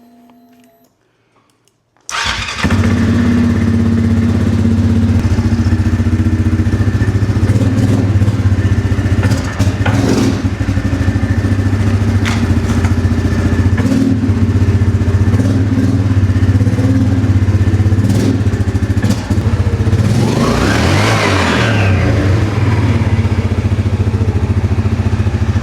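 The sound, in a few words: ATV engine starting and running after clutch kit install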